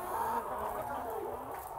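Chickens clucking inside a broiler shed, a continuous low murmur of many birds with a faint higher call, steady and moderately quiet in the background.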